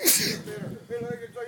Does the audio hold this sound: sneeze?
yes